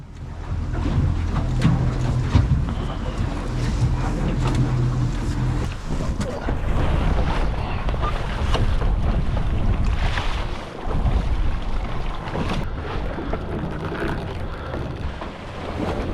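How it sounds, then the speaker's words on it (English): Ocean waves lap around a boat floating offshore on a crabbing trip, a steady broad wash of water and wind noise that holds throughout without speech. "So go ahead and just float right now on the ocean"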